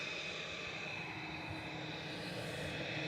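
A Finnair airliner climbing away into cloud, its engines a faint, steady distant roar with a thin whine on top, heard alone.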